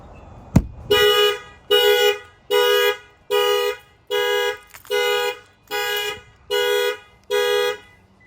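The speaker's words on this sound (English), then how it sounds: "The alarm goes off." A sharp bang on the window of a 2024 Toyota Tundra, then its car alarm sounds close by in nine evenly spaced, loud honking pulses.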